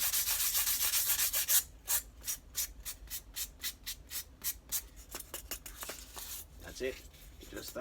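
A sanding sponge lightly rubs over a crafted Dungeons and Dragons grave model, one long continuous scrub followed by a series of quick, even back-and-forth strokes, close and crisp.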